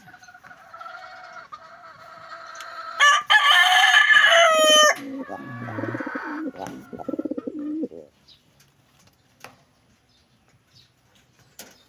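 Young pigeons in a loft calling with soft coos and throaty bursts, loudest in the middle and close by, then fading to faint scattered sounds.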